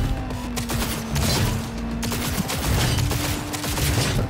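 Dense gunfire from the video game Cyberpunk 2077, a continuous rattling fusillade with overlapping shots and impacts, loud and sustained throughout without pause.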